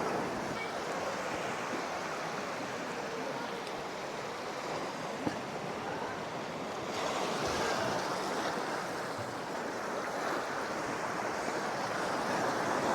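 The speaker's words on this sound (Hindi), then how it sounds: "ये है समंदर की लहरें।" Sea waves roll and break on Harihareshwar beach in Maharashtra, India, a continuous, steady roar, with wind rushing over the microphone throughout; no voices.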